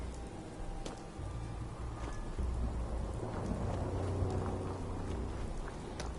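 In Fallout 4, steady rain patters down on a ruined wasteland while low rolls of thunder rumble faintly in the distance, staying soft and continuous throughout.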